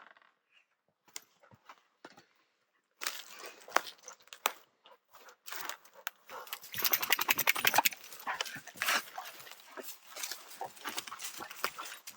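A dog moves about on a dirt hiking trail, snuffling and rustling through brush and obstacles. The scuffling noises are close and irregular, growing busier and louder in the second half, with no talk heard.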